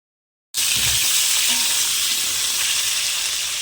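Cut potatoes dropping into hot oil tempered with cumin, bay leaf and dry chilli, bursting into a loud, dense sizzle after a moment of silence and holding that steady frying hiss close up, no voices.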